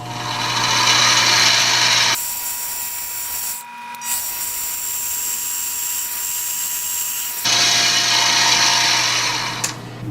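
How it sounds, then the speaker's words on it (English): A steady mechanical whine of a drill boring a hole in metal, shifting into a lower grinding drone as the cut proceeds, then returning to the higher whine before stopping, during a rotary tumbler rebuild. "Now drill out our first hole."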